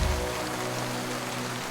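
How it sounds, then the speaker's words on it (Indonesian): Heavy rain in Mawsynram village pours down as a dense, constant hiss of drops striking surfaces, loud and uninterrupted for the whole short stretch. "Meskipun hujan deras dan tidak ada matahari selama berhari-hari."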